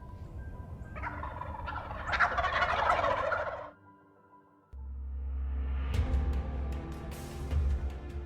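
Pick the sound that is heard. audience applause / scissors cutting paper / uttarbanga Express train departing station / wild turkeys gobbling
wild turkeys gobbling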